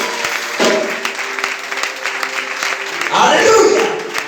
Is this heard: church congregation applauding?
yes